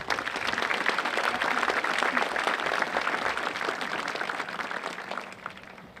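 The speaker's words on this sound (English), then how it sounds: "please, if you can join me again in a big round of applause for all of these amazing and special people" Graduation audience at a high school ceremony giving a sustained round of applause, a dense wash of many hands from a large crowd that fades gradually toward the end.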